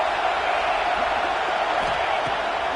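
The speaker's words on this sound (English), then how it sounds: "This crowd trying to make life miserable for this offense." Stadium crowd at a college football game, Minnesota at UCLA, a steady, dense roar that fills the space evenly for the whole stretch without distinct cheers or peaks.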